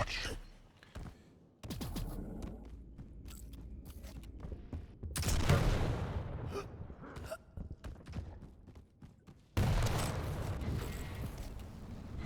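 Quake Champions arena duel with rocket blasts and railgun shots, sharp bursts and booming explosions punctuating a rumbling, mechanical game soundscape, with sudden loud surges, while a commentator talks over it.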